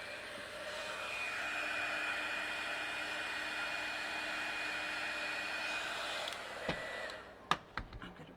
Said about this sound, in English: And now heat. Heat is what makes this stuff crack.